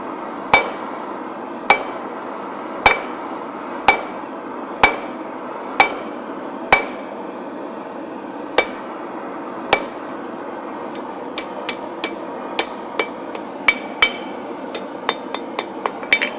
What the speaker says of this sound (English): I'm going to do a half on, half off blow on the edge of the anvil.